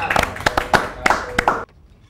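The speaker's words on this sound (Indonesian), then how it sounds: "Terima kasih, mari kita tepuk tangan." Hands clap in a short rhythmic burst of about six sharp claps, close and loud over a murmur of voices, then stop abruptly into near silence.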